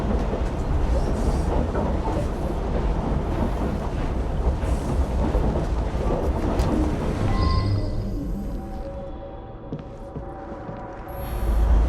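A train in the video game Assassin's Creed: Syndicate rattles steadily along the rails with a loud, continuous rumble and clatter, then eases into a quieter hum with faint squeals toward the end.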